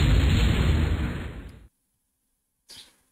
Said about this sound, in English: Forceful air gun, actually.